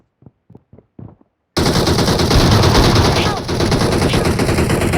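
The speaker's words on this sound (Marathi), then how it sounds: "मी मारल्या 2 गोळ्या" Game gunfire in BGMI: a dense, loud burst of sustained automatic shooting that fills the second half, preceded by a few short broken sounds in near silence.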